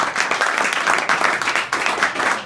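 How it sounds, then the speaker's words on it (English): An audience at a community political forum applauds, a dense continuous patter of many hands clapping at fairly close range, steady throughout with no voices standing out. "Let's give him a round of applause for that."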